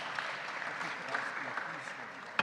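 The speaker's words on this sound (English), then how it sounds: "Give him a round of applause." An audience at the IMF MENA Research Conference gives a round of applause, a dense, even wash of clapping that holds steady throughout and ends with a sharp final clap.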